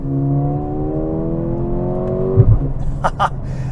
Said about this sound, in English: the upshifts with the exhaust, you get this big pop coming from the rear